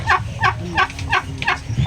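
Hybrid turkeys gobble in quick repeated bursts, about five rapid warbling calls close by, with a low murmur of background noise.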